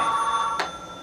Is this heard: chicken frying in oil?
no